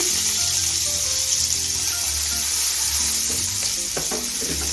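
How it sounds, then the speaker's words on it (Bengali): Minced garlic frying in a couple of tablespoons of oil left from cooking chicken tawa kebabs, a steady close sizzle with bubbling crackle and a few light stirring clinks near the end. "রসুন কুচিটা একটু ভেজে নিচ্ছি"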